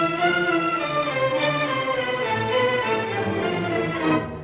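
An orchestra plays a Brahms symphony theme in a minor key, a full sustained ensemble sound with rich layered harmonics, steady and moderately loud throughout with no talking.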